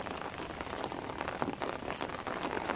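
Rain on Mantanani island patters densely and steadily on surfaces, a close continuous hiss with scattered heavier drops.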